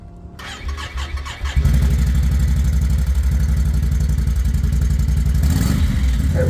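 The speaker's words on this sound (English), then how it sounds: "That was a quick little audio clip with the stock muffler on. I gave it a couple revs" An engine with a stock exhaust muffler cranks and starts, then settles into a deep, throaty idle close by, with a couple of brief revs toward the end.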